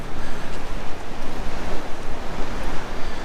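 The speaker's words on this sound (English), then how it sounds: "These waves are absolutely enormous." Large ocean waves crash on the Orkney coast after a storm, a loud, continuous roar of surf with strong wind buffeting the microphone in repeated gusts, no voices.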